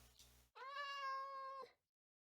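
A Minecraft cat gives one clear, drawn-out meow lasting about a second, close and loud, after a short stretch of quieter background sound.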